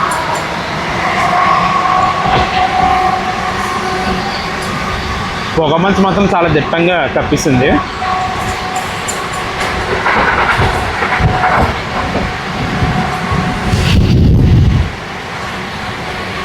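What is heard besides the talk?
Vijayawada MEMU passenger train running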